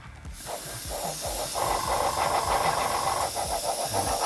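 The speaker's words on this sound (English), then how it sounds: "Just going to spray from side to side." An airbrush sprays weathering paint across a Hornby Texaco model tank wagon, producing a soft continuous hiss broken by short pulsing bursts as it sweeps side to side.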